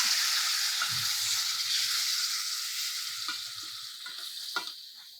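Loud, steady sizzling of tamarind pulp poured into hot oil tempering, a continuous bright hiss with occasional stirring clinks, close up and gradually settling.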